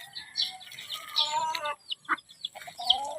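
Chickens clucking and chirping close by in short, irregular bursts while scratching for leftover fruit salad, with a few louder squawks over a quiet background.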